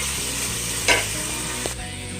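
Vegetables sauté in a pan for a kale dish, giving a steady close sizzle with a sharp scrape of a stirring utensil near the middle and a lighter tap after it. No voices are heard.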